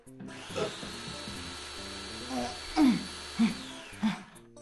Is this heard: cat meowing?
no